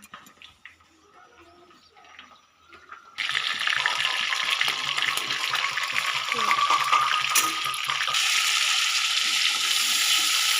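Onion dropped into hot oil after mustard seeds while cooking boal fish with bottle gourd, starting as a quiet pan, then a sudden loud, continuous sizzle and crackle that holds steady to the end.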